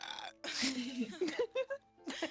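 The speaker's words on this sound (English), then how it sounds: "I have to burp." A person's burp, voiced and drawn out with a wavering pitch, followed by a few shorter gulping bursts and a final breathy sound, close and fairly loud with no other talk.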